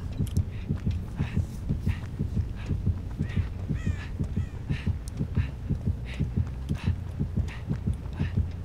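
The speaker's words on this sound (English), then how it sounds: "now that I hear Nia's heartbeat" A heartbeat sound effect pulses in a horror video game with Legion and Cheryl, a steady, loud rhythmic double thump repeating about twice per second, with cawing crow calls layered over the top.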